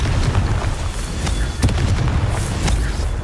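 A Confringo blasting spell goes off in Hogwarts Legacy, a loud, booming game explosion rolling through several seconds of heavy rumble with sharp bursts scattered across it.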